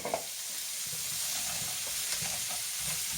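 Quorn chilli with frozen corn simmers and fries in an oiled pan, a steady close sizzling hiss with faint crackles and pops throughout, moderately quiet and free of speech.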